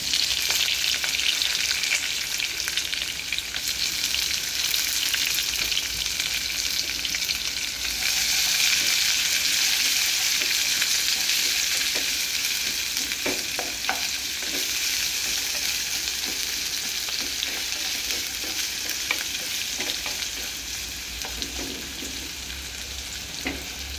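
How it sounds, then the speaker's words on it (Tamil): Onions sautéing in a pan for Madras-style chicken curry give a continuous loud, close sizzle with occasional light stirring clicks, easing slightly toward the end. "வெங்காயம் நல்லா வதங்கட்டும்."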